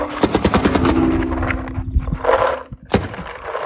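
A Planet Eclipse GEO4 paintball marker fires a rapid burst of sharp, loud shots, emptying the hopper in a quick ragged stream, then pausing briefly before a final crack and a hiss.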